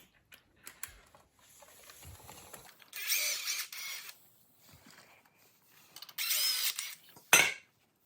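Screws on a Yamaha TTR225 clutch cover being loosened in a crisscross pattern, heard as brief ratcheting and driver bursts separated by quiet gaps, with two longer loud stretches and a sharp final clack.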